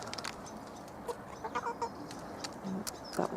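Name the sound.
Marans chickens clucking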